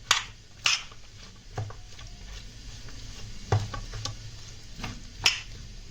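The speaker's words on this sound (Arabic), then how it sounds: "اضيف لهم كمان مكعب مرق، وهقلب كل ده بقى" Chicken wings being tossed and stirred with a stock cube in a bowl, giving irregular soft wet clicks and sharper knocks against the bowl, close up with no voices.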